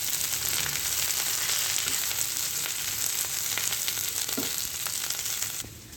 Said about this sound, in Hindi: मिक्स करेंगे इसको, कम सेक पर 1-2 मिनट तक सौते होने देंगे